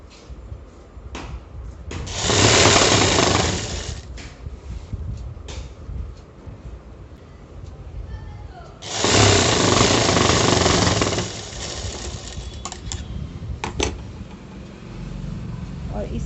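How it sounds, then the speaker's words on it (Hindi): An electric sewing machine stitches the side seam of an A-line palazzo, running in two loud sustained bursts of a few seconds each, with quieter fabric handling and faint noises in between. "और इस साइड भी अब सिलाई लगा लेते हैं।"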